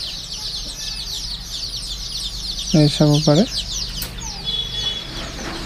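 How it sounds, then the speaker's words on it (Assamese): Farm chickens, about two hundred birds in an open shed, clucking steadily in the background while three loud, close, bright clucks ring out in quick succession; someone speaks briefly. "ইয়াতে মানে 200 মুৰ্গী আছে"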